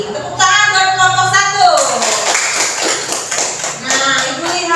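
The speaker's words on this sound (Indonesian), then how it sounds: "Tepuk tangan buat kelompok" A Grade 4 class claps for a student group, a loose patter of many hands in a classroom, mixed with a teacher's voice speaking over it.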